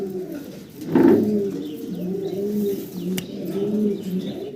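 Pigeons coo in soft, rolling low calls, repeating steadily, close by with a brief louder flutter near the start.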